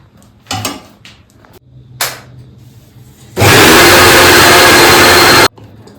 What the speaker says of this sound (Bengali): এবার আমরা গ্যাস অফ করে ব্লেন্ড করবো, এটা আমরা পিউরে করবো।